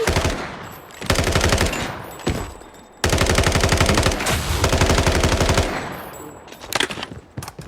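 A submachine gun in a video game fires long, rapid bursts, a short burst and then a longer sustained stream, followed by scattered, uneven shots trailing off.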